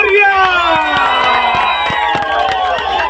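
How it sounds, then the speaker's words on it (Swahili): A large crowd at a political gathering cheers and shouts loudly for Elijah Njoroge Kororia, a continuous roar of voices with scattered claps and whistles running under it. "Wapi makofi ya mheshimiwa Elijah Njoroge Kororia."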